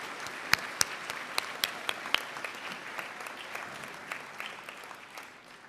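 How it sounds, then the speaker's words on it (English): At a college commencement ceremony, graduates give a scattered round of applause, with a few sharp, loud nearby claps standing out over a softer crowd of clapping that fades toward the end. "How about a round of applause from the graduates in recognition of the faculty and staff who have challenged and supported you along the way."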